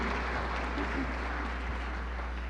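A forum audience applauds the Colorado candidates for governor, a steady, dense wash of clapping from a crowd in a hall with a low hum underneath, continuing evenly throughout.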